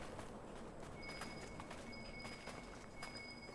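Faint hoofbeats of a horse crossing desert sand in Dragon Age Inquisition, a steady rhythmic clip-clop under soft ambient tones and a thin high chime.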